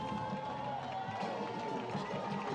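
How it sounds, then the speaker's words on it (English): A high school football student section, the Hornet Hooligans, cheers in a stadium as the fourth quarter begins, a steady distant crowd roar with scattered clapping. "The Hornet Hooligans definitely riled up now. You can hear them cheering as we go into the fourth quarter."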